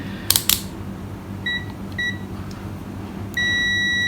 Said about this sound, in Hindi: मल्टीमीटर को हम लोग बजर की रेंज पर रख लेते हैं।